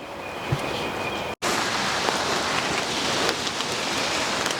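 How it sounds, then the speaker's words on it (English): Heavy rain falls steadily at a carp-fishing spot, a dense, even hiss of drops close by with no talk and only a brief dropout partway through. "It's been raining all day, literally."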